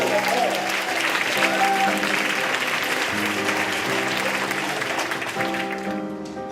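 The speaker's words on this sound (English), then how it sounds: "Please give him a round of applause." Sustained applause from an audience at a formal award gala dinner, loud and dense throughout with a steady wash of clapping and faint background tones, tapering slightly near the end.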